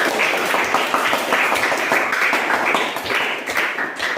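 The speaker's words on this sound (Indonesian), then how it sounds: "berikan tepuk tangan untuk kelompok 3" A classroom group gives a presentation and the audience claps: a dense, steady patter of many hands clapping at close range for about four seconds, with no voices breaking through.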